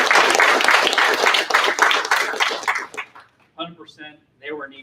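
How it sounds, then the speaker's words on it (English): Applause at a class graduation ceremony, a dense burst of clapping from a crowd that fades out after about three seconds, followed by a person speaking. "So please round of applause."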